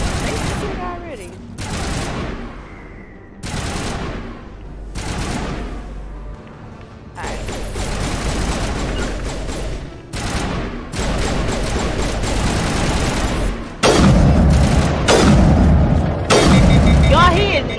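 Sniper rifle fire and explosive booms in the Mass Effect Legendary Edition video game, a series of loud cracks and blasts over about eighteen seconds, mixed with other combat noise and some talk.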